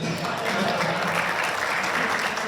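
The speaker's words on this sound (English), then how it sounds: "big round of applause for Mel Briggs" Audience at a skeet shooting Hall of Fame ceremony applauding an inductee, a short burst of many hands clapping, steady and fairly close.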